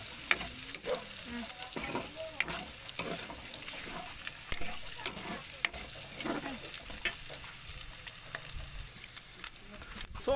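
Onions and garlic sizzle and sauté in a pan for a Filipino sinigang dish, a soft continuous frying hiss broken by repeated clicks and scrapes of a utensil stirring, with no voices.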